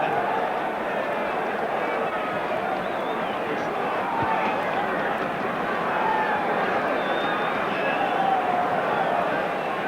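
Football crowd at Ayresome Park during a 1990 Middlesbrough versus Aston Villa match, a dense, steady roar of massed voices with singing swelling throughout, loud and continuous without breaks.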